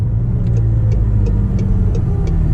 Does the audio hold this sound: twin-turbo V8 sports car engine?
yes